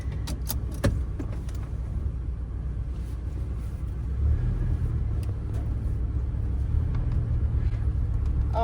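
A 1997 Ford E-350 van drives along with a steady, close engine rumble and road noise that grows slightly fuller partway through, with a few light clicks and jangles early on.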